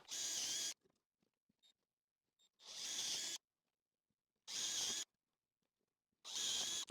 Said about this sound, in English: I'm gonna use a 8mm drill bit to drill out that material there